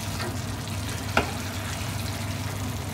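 Meatballs for Italian polpette al sugo fry in a pan with a steady, close sizzle, and a single brief scrape or clack comes as they are turned.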